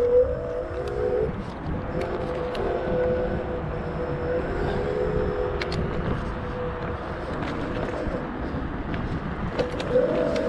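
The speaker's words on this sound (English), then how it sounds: "the sound of the motors are great. They are a little bit loud" The motors of a Kaabo Mantis 8 Pro electric scooter give a steady whine that rises and falls with speed during a ride. Rushing wind and road rumble sit underneath.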